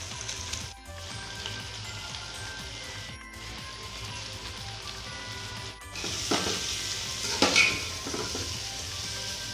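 Spiced chicken for biryani sautéing in a pan, a constant moderate sizzle with intermittent stirring scrapes and a few utensil knocks, growing louder near the end.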